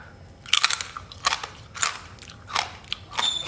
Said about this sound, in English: I can't wait to put this crackle in my mouth.